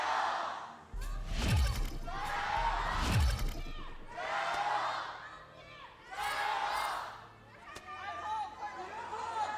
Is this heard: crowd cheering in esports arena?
yes